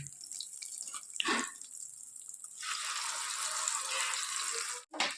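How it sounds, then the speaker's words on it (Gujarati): Thick gravy pours into a pan of fried vegetables and paneer, a steady liquid gush for a couple of seconds with a few soft knocks before it, close by. "હવે આપણે એના અંદર ગ્રેવી નાખી દઈએ."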